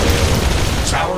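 A tower blows up in the sci-fi video game The Riftbreaker, a loud low boom rumbling throughout, mixed with game effects while a voice speaks over it.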